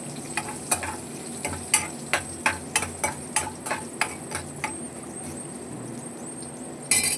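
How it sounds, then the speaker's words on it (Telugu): A pan of spices with asafoetida and curry leaves being stir-fried for banana flower curry gives a steady run of sharp spatula scrapes and clinks over a low sizzle. The scrapes stop near the end, leaving only the frying. "దాంతోపాటు కరివేపాకు కూడా వేసుకోవాలి. వేసుకొని బాగా వేయించుకోవాలి."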